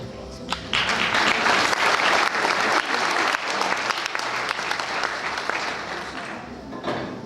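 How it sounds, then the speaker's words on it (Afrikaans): An audience claps for a group of grade 3 pupils after a school prize announcement, sustained dense applause from a large crowd that swells quickly and tapers slowly over several seconds. "ons kan vir hulle hande klap gee"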